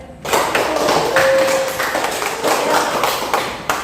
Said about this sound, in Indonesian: Tepuk tangan untuk kelompok satu ya